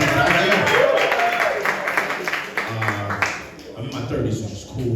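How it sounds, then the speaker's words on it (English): An audience at a New York comedy show claps in a dense, steady patter that runs under a comedian's nearby talking throughout. "Clap for me."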